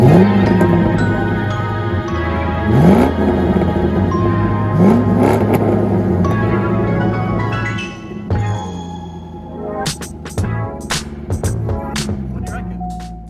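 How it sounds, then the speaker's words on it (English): A manual Corvette C5 with an LS1 V8 revs repeatedly, its engine rising and falling in loud, close throttle blips, followed by clattering and tapping mechanical noises near the end. "Hey Pod, how's this for a V8 sound?"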